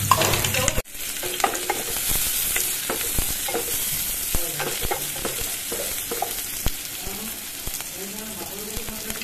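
Sliced onion and two green chilies dropped into hot oil: a sharp hit, then a loud, dense sizzle that keeps going under occasional stirring clinks.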